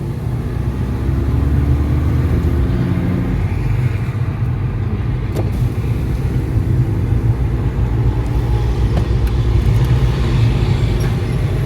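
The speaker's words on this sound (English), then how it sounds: "You want to hear the heavy trucks?" Heavy trucks driving by on a road, a low, steady engine rumble and road noise that swells as traffic gets moving, with no one talking.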